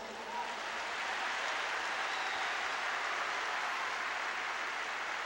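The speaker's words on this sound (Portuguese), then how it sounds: "Vamos aplaudir ao Senhor." Congregation applauding in a large church gathering of thousands of women, a steady dense wash of clapping that fills the space evenly throughout, fairly loud and continuous with no voices over it.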